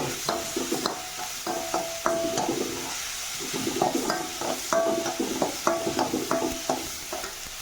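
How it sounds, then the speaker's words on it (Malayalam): A utensil stirs tomato, egg and onion frying in a pan, making soft scraping and clinking taps over a steady low sizzle, close and fairly quiet. "ഇത്തിരി ഡ്രൈ ആവണ വരെ ഒന്ന് ഇളക്കിക്കും"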